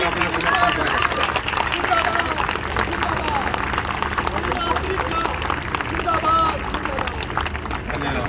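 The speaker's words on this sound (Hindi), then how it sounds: "आप सभी खड़े होकर जोरदार तालियों के साथ भाई कृष्णपाल गुर्जर जी और सीमा त्रिखा जी का स्वागत करें" A political rally crowd in an Indian neighbourhood applauding steadily for several seconds, sustained clapping blended with general crowd noise and hubbub at a loud, even level.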